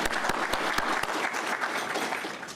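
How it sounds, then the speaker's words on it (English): A crowd at a graduation and promotion ceremony applauds, a burst of clapping with a few sharp claps standing out, gradually tapering off slightly. "Let's give them a round of applause."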